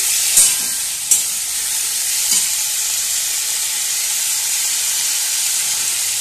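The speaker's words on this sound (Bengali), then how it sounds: "এবার দিয়ে দিচ্ছি সেদ্ধ করে রাখা ডুমুর আর আলু, ভালোভাবে মিশিয়ে নিচ্ছি" Boiled figs and potatoes sizzle in a frying pan while being stirred, a steady loud hiss with a few sharp scraping clicks near the start.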